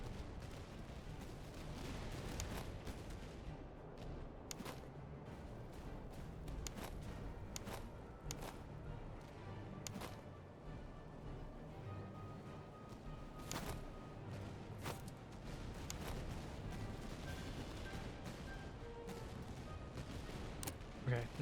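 Gunfire and artillery fire in the Master of Command video game crackle in repeated sharp bursts over a dense background din, with talk heard faintly underneath.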